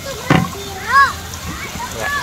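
Children swimming make one sharp splash early on, followed by lighter sloshing water, while kids' voices chatter and squeal over it.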